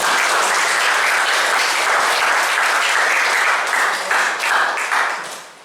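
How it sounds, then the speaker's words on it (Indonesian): Sustained applause from a classroom group, a dense steady wash of clapping that fills the stretch and fades out at the end. "Tepuk tangan buat kita semua ya."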